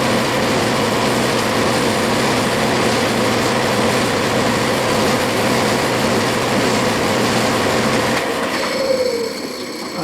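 A metal lathe faces off a steering pulley for a King Midget car, a steady dense cutting and motor drone that continues without a break, then a brief squealing scrape near the end.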